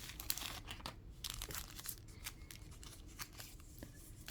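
A plastic bag holding an iPhone privacy screen protector's manual crinkles as it is opened, with close, busy rustling and brief crackling bursts throughout and no talking.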